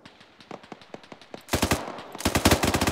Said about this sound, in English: We've got shots to our east.